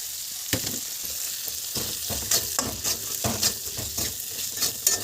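Chilies frying and being stirred in a pan after ginger and garlic spices, with steady sizzling and repeated scraping stirs; close, with no talk.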